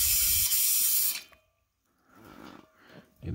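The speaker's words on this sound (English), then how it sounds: "Draining out all the water." Water drains out through an opened valve on a pressurized thermodynamics rig, a brief hissing gush that cuts off, then a quieter gurgling trickle that swells again at the end.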